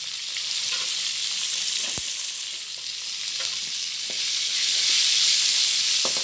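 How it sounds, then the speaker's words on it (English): Chopped onions fry on a hot tawa while making white rava upma, giving a steady, close sizzle with occasional stirring scrapes throughout. "whatever the items we have put inside the tawa is fried, I'm going to add chopped onions in this."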